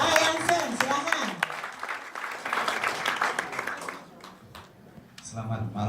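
Applause from an audience at an evening business presentation, a broad, continuous crackle of clapping that holds steady for several seconds and then tapers before a voice begins speaking near the end.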